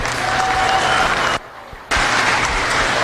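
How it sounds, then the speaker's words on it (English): Dense applause from a crowd at a youth fair awards ceremony. It fills the hall, breaks off briefly near the middle and then resumes just as strongly. "we'll give you another round of applause."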